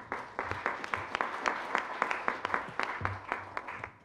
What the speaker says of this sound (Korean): 의원님을 큰 박수로 맞이해 주십시오.